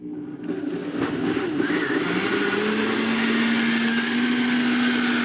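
A motor whirs steadily while strawberry pie filling ingredients, including whipped topping, are mixed. The tone rises slightly in pitch and holds loud and close for about five seconds, with no talking.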